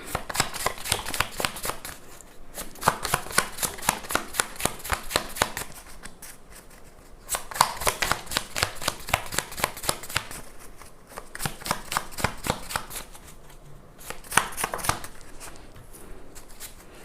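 Tarot cards shuffled by hand in repeated rhythmic bursts of rapid riffling, three long runs separated by short pauses, close and clear with no talking.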